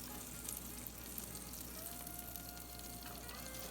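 Garlic butter lobster tails sizzling on a Ninja Foodi grill, a steady dense crackle of frying with small pops throughout, close and continuous with no voices.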